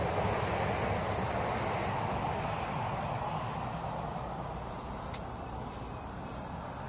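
A faint, unbroken drone of many crickets hangs in the night air in Lee County, Southwest Florida, a steady high hiss with a low traffic rumble beneath and no voices.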